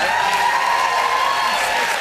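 Studio audience applauding on a morning TV talk show, a dense, even wash of clapping that holds steady for a couple of seconds with a faint held tone underneath.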